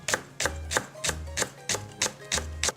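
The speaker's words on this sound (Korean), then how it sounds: "대파 한 대를 송송 썰어 준비해주세요" A knife slicing a green onion on a cutting board for potato egg soup, about nine evenly spaced crisp chops in a steady rhythm, close and clear with no talking.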